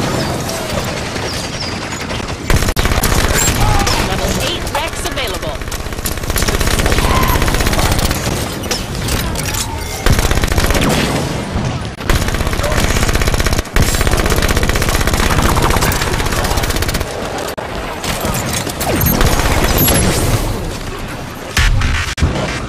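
Sustained machine gun fire from a Halo 5 Guardians firefight on expert difficulty, loud and dense bursts rattling almost continuously with booming impacts and explosions mixed in, alone without talk.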